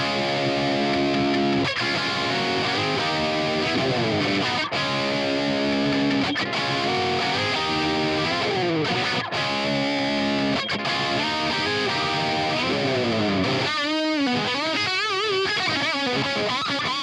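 Distorted electric guitar with a heavy brown tone through a Fractal AX8 amp modeler with Ownhammer cabinet impulse responses, playing a dense, continuous rock riff for the whole stretch with a few short breaks and a bending, warbling phrase near the end.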